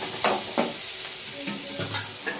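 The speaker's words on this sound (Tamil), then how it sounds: "இப்ப வெங்காயம் நல்லா வதங்கட்டும்." Onions sauté in a pan under a constant close hiss of sizzling, punctuated by a few quick spatula strokes scraping through them, with no one talking.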